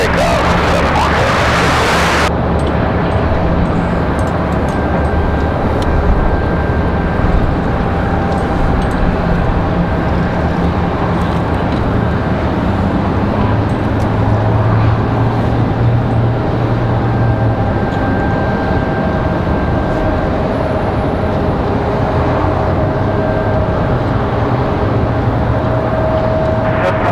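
Airliner departing runway 5 left at Raleigh-Durham International, a loud continuous roar of jet engines that holds steady for nearly half a minute after a brief opening burst.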